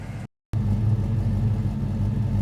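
A supercharged 1994 Ford Mustang GT idles with the hood shut, a steady, close, low engine and exhaust rumble broken by one short gap of silence near the start.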